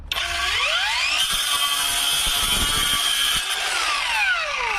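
A Ronix 8902 brushless circular saw with its blade spinning up, biting into 36 mm chipboard with a loud sustained whine, then spinning back down, close and without speech.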